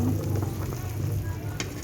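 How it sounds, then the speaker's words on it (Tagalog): A pot of mung bean stew bubbles and sizzles steadily on the stove, with a low hum underneath and a brief clink of stirring near the end. "Ayan, kumukulo na. Haluin natin."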